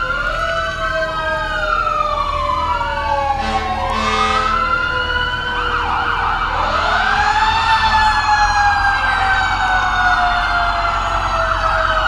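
A loud ambulance siren wails continuously in a town parade, its pitch sweeping up and down in long rising and falling tones, close by.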